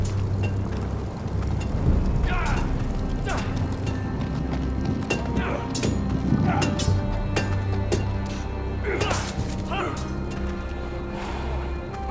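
Horse hooves clip-clopping in the Game of Thrones video game, a steady run of close hoofbeats over a dense layer of ambient sound and music.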